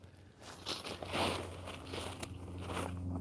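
A small, comfortable campfire on the West Arm of Lake Minnetonka, Minnesota, gives faint, close crackles and soft pops with irregular rhythm over quiet background.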